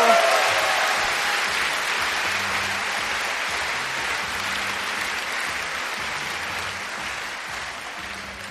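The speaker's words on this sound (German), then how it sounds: "begrüßt mit einem tosenden Applaus" Loud, sustained audience applause at a TU Berlin science event welcomes a speaker to the stage, a dense steady clapping that fills the whole stretch with some crowd murmur underneath.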